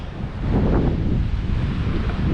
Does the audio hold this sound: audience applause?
no